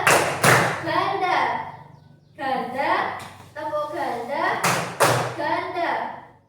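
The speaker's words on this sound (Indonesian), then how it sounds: "Tepuk tunggal, tepuk ganda, tepuk ganda." An Indonesian school class answers a teacher's clapping routine with single and double claps, sharp loud claps in short groups separated by a voice speaking between them.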